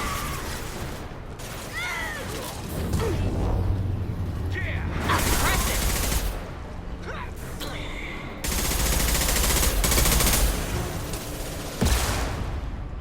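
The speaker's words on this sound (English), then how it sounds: "What the hell is shooting at us now?" Bursts of gunfire from the video game Mass Effect 2, loud volleys and rattling mechanical clatter recurring in waves across the clip, with a voice talking in between.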